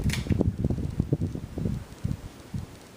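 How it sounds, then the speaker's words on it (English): A 52-inch Halsey ceiling fan with oiled bearings runs smoothly at medium speed, giving a soft, steady whooshing air rush with gentle rhythmic fluttering, close to the listener. "It's actually quite a smooth running fan."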